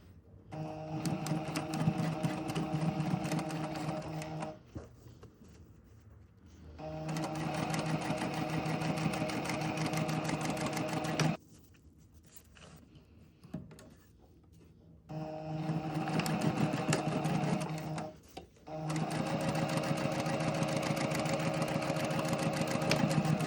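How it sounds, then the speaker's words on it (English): A sewing machine stitches lining to a waistband in loud, steady bursts of rapid mechanical whirring, three long runs separated by quieter pauses with small handling noises, close by and without talk. "So you're going to sew the lining to the other side of your waistband."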